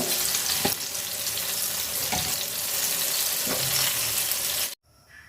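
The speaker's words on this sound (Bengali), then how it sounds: "বেগুনও আমি ভাজা নিচ্ছি" Eggplant slices fry in hot oil in a pan, giving a steady loud sizzle with a few stirring scrapes before it stops abruptly near the end.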